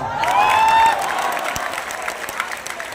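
An audience at a nazm poetry recital breaks into applause. A brief voice is heard at the start, then a crowd claps and murmurs at a moderate, fairly steady level.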